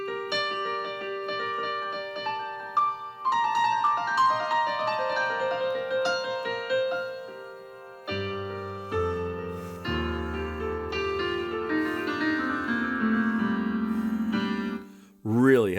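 A Korg Nautilus plays a layered piano patch blending Italian and German grand piano sounds, with sustained chords and flowing melodic runs ringing out clearly, alone and at moderate volume.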